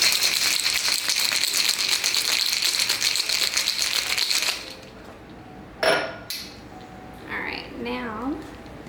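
An espresso martini being shaken hard with ice in a cocktail shaker, a loud continuous rattle for about four and a half seconds, then stopping, followed by a few faint clinks and a brief voice.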